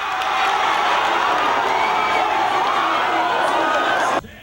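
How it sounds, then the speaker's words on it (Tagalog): Crowd of fight viewers in Cebu watching the Pacquiao-Mayweather bout, shouting and cheering in a loud, continuous roar that cuts off abruptly near the end. "Walang humpay rin ang sigawan ng mga nanood sa laban sa Cebu."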